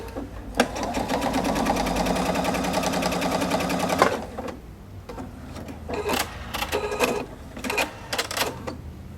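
Viking Opal 690Q sewing machine running a long basting stitch, a steady rapid mechanical whir for about four seconds, then broken into short bursts of stitching with pauses between.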